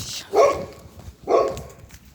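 A dog barks twice outdoors at night, two loud, close, separate woofs about a second apart, with quiet gaps between them and no talk.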